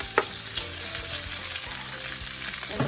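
Onions and peppers fry loudly in a cast iron skillet, a close, crackling sizzle broken by repeated stirring scrapes, and no one speaks.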